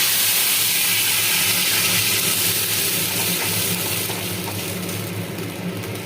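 Tomato puree hits hot oil in a pan already tempered with panch phoron and a torn bay leaf, giving a loud, continuous close-up sizzle and hiss that fades slightly toward the end.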